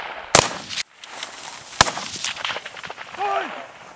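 Rifle fire during a military leadership training exercise: two sharp, loud gunshot cracks about a second and a half apart, with shouted voices and outdoor bustle between them.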